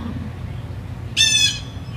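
A single harsh bird squawk rings out, short and fairly near, over a low steady background rumble.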